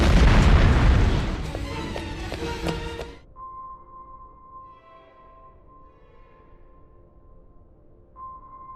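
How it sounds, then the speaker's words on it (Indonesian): A film shootout opens with loud booming blasts and a quick run of sharp gunshots, then gives way to near silence with a faint lingering ring. "Hingga aksi baku tembak pun tidak dapat terhindarkan."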